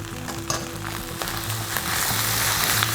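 Boiled noodles frying in a pan with chili and garlic, a loud, continuous sizzle with occasional stirring scrapes that grows slightly louder toward the end.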